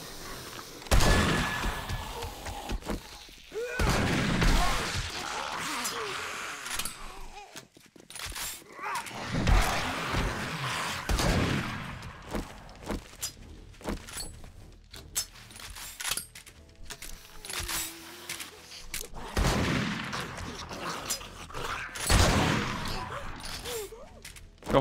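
Gunfire in the zombie survival game 7 Days to Die, Alpha 20, comes in a few loud, sharp bursts spaced several seconds apart, with mechanical clicks and rattles between them and quieter stretches in between.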